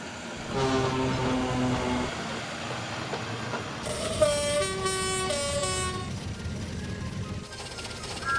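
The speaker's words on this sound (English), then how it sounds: "Bruno was hitched to the train and Diesel left for Dryall Airfield." A train pulls away with rumbling wheels and a long two-tone horn blast sounding over the rolling clatter, moderately loud.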